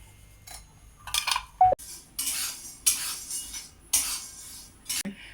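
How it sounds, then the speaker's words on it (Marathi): Chana dal and urad dal being dry-roasted and stirred in a pan for thalipeeth bhajani, with a spoon scraping and clinking against the metal in irregular bursts, close and moderately loud with quiet gaps between strokes. "इथे मी हरभऱ्याची डाळ आणि उडदाची डाळ दोन्ही एकत्र भाजते."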